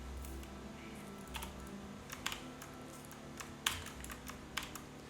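Keys clack on a computer keyboard in scattered taps and short bursts over a low steady hum, close and moderately loud, with no voices.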